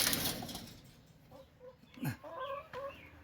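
Several chickens cluck close by in short, throaty bursts after a soft rustle, with no talking.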